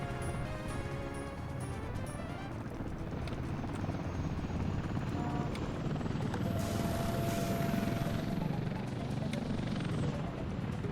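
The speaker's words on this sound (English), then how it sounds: "Oh, man, those helicopters are thirsty." Helicopters flying in the city-building video game Workers & Resources, a steady whirring engine drone held throughout alongside scattered game effects and tones, with no talking.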